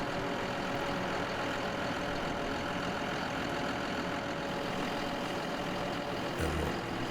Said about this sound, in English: And we'll bring this tractor over towards the main gate.